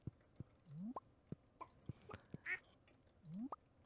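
Cartoonish duck quacks from a farm duck in the video game Stardew Valley, several short nasal calls spread through the clip with small plopping game sounds between them, loud and close with no talking.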